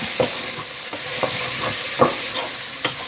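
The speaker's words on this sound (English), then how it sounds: "Add in our onion. I'll let that cook out." Onion sizzles steadily in a hot pan with butter, a bright continuous frying hiss broken by repeated scraping strokes of a utensil stirring it at an uneven pace.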